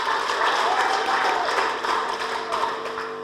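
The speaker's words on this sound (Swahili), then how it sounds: "tunapaswa kuwapiga makofi mengi sana" An audience at a district loan-disbursement meeting claps in a steady, moderately loud round of applause that holds for a few seconds before easing off slightly.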